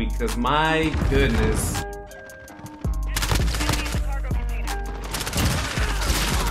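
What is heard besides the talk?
AK-47 gunfire in video game Modern Warfare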